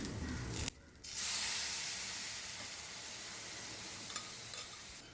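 A loud hiss and sizzle erupts as boiled lentils hit a hot pan of tomato masiyal, continuing steadily with faint stirring clicks.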